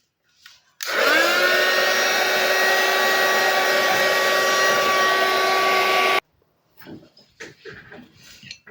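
A hair dryer drying paint on an art journal page whirs loudly and steadily for about five seconds after a short start, then cuts off abruptly, followed by quiet talk.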